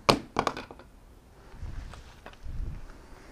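A Vortex StrikeFire II red dot sight strikes a concrete floor with a sharp thunk, then bounces and clatters in a few quick knocks, followed by two duller low thumps of handling nearby.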